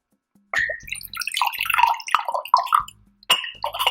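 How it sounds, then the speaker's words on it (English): Water is poured into a cup in short bursts, each a bright splashing trickle with clinks of the cup, set against near silence. "fill it up with some water."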